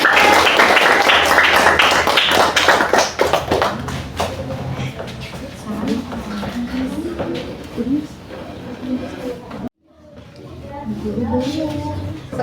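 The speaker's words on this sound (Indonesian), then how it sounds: "Oke, kita beri tepuk tangan untuk" Classroom applause for a group's answer starts as a burst of brisk clapping from many students, fades out after about three seconds, and gives way to a teacher and students talking.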